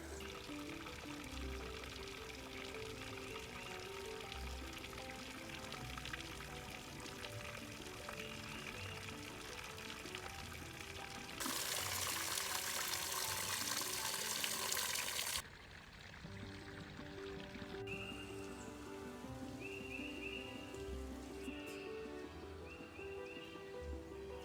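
Small waterfalls in a forest canyon in Indiana in spring pour and trickle steadily at low volume, with a louder, fuller rush of water partway through.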